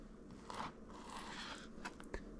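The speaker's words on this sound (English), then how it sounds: "I'm going to cut these pieces into smaller chunks" A knife slices homemade dog treat pieces into smaller chunks for the dehydrator, giving a few soft, quiet crunching cuts spaced irregularly against a faint background.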